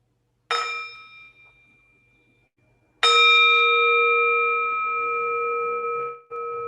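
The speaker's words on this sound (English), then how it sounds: "Let's have a sound of the bell." A mindfulness bell struck twice during a Buddhist Dharma talk: a clear ringing strike that fades, then a second louder strike whose bright tone sustains and slowly decays, with no talking.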